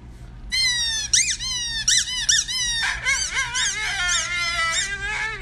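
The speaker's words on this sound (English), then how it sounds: "Of him howling at a little squeaky toy." A dog howls and yelps in rising, wavering squeals alongside a squeaky toy, a string of high-pitched cries close to the microphone with no talking.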